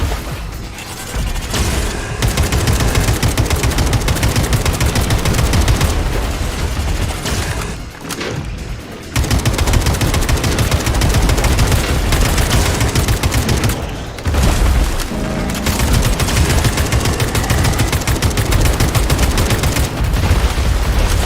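Gunfire rattles through a fight in the video game Atomic Heart, a dense, loud, near-continuous barrage of rapid shots and booms with only a few brief pauses.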